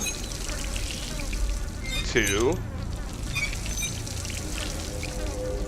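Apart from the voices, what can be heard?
water running from turned faucet, video game Dishonored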